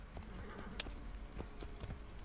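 A horse in Assassin's Creed Origins trots with irregular, soft hoof clops over a dull low rumble, faint and close, with no clear talking.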